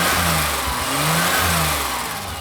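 A BMW car engine running and revving, a loud, close mid-range drone that swells in a few rising pulls before easing back, heard alone.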